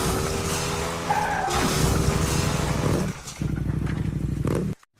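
A car is driven fast, with a loud, steady engine roar that holds for about three seconds, dips briefly, then surges again before cutting off abruptly.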